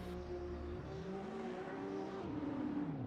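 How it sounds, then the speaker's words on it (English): A Corvette C6 drift car rolls off the start line at a drift competition, its engine note climbing and sweeping upward in rising harmonics, loud and continuous with a steady roar throughout. "Mr. Jacobellis is rolling off from the start with the Corvette C6"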